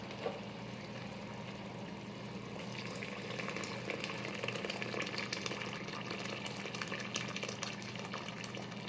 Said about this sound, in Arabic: ندير الحميصه تاعي ونمرق بالماء سخون